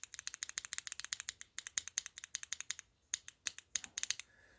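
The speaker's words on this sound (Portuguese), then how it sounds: "Esse daqui é o Switch White do Attack Shark." Attack Shark White mechanical keyboard switches click rapidly in quick bursts of light, crisp keystrokes, close and fairly quiet, with a brief pause mid-way and no talk.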